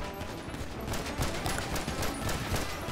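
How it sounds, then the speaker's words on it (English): Dense gunfire in GTA 5 aimed at car tires, a loud rapid volley of overlapping shots with no pauses, up close. "Shoot their tires."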